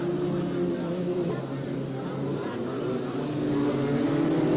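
Three-wheeler ATV engines buzz continuously at the 1985 AMA National race in Miami, a steady moderately loud whine swelling slightly toward the end as riders come around the course.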